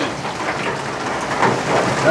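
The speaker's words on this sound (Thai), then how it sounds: "ว่าแล้วฝนตกนี่นะ" Steady rain falls and patters on surfaces outdoors, a continuous hiss that swells slightly toward the end, with no voices over it.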